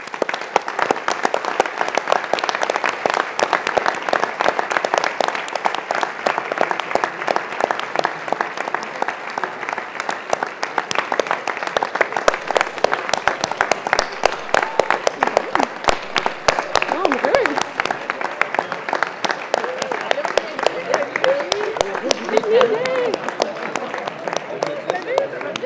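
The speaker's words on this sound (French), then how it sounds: "leur donner une bonne main d'applaudissements" A large audience at a housing summit claps steadily and warmly as mayors and substitute mayors join the stage, dense applause holding at full strength throughout with occasional faint voices beneath.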